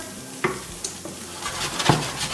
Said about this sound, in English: we're gonna cook them for about 2 minutes until the rosemary and the onions become fragrant at medium-low heat